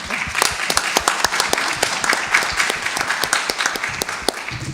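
Audience at a school district board meeting claps for gold medalists, a close, lively run of distinct hand claps at steady strength from start to finish.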